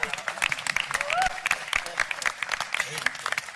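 An audience at a comedy press conference claps in scattered bursts, sparse and uneven rather than a full ovation, with voices talking and calling out over it.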